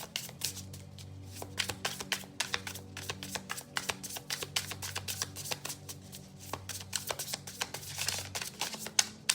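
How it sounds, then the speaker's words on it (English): A deck of playing cards is shuffled again and again at close range, its quick riffling and rapid clicking bursts coming back in an uneven rhythm, quiet, with no one speaking. "This deck is a little hard to shuffle"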